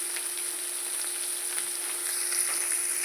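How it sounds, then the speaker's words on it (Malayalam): Fish pieces fry Kerala style in a pan over a low flame, giving a steady, close sizzle with a faint constant hum and no voices. "എല്ലാ മീനും ഞാൻ ചട്ടിയിലേക്ക് ഇട്ട് കൊടുത്തു. തീ കുറച്ച് വെച്ച് നമുക്ക് മൂപ്പിച്ചെടുക്കാം."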